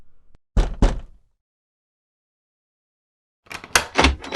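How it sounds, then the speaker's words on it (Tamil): Someone knocks on a door in two quick raps, then there is a pause of silence, then a faster burst of several more knocks. "ஒருத்தர் வந்து எவ்வளவு நேரமா கதவு தட்டிட்டு இருக்காரு?"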